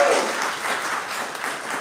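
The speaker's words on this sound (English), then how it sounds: "Give Nicole a round of applause." A brief round of audience applause at a showcase event, steady and moderately loud, with no talking over it.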